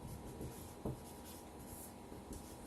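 Steady, faint scratching of writing on a surface, close and continuous, with one slightly sharper stroke partway through and no talking.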